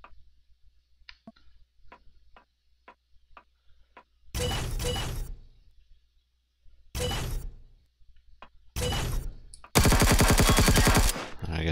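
Gunfire in the space survival game Empyrion. Quiet ticking clicks come first, then loud sustained bursts of automatic fire with gaps between them, ending in one long, dense barrage.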